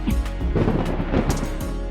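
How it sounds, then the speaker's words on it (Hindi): Loud, close thunder crack from a storm, a deep broadband rumble that rolls on steadily for two seconds with several sharp bursts along the way. "तभी बहुत जोर से बिजली कड़कड़ाती है।"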